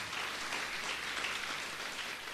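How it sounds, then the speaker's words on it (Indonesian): A dense wash of applause from a church audience, steady and continuous throughout with no voices standing out. "Mari berikan tepuk tangan."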